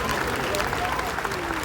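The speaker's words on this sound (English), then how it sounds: "I said a nice round of applause." Audience applause at a public gathering, a dense steady patter of many hands clapping throughout, fairly loud and continuous, with some voices mixed into the crowd noise.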